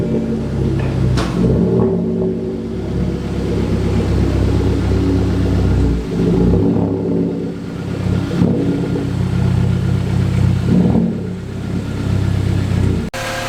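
A car engine runs steadily for several seconds with a low rumble, rising and falling slightly as it revs.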